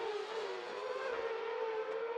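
Race cars lapping a circuit during a winter test session, a steady engine drone holding a fairly constant pitch for the whole stretch, with no voices over it.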